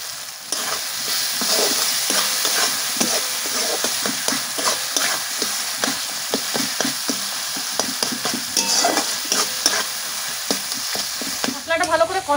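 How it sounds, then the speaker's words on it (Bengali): Tomato masala stir-fried in oil in a village kitchen pan, a steady loud sizzle with repeated scraping stirs throughout, no talking. "মশলাটা ভালো করে কষানো হয়ে গেছে,"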